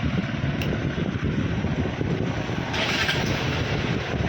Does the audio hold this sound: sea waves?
no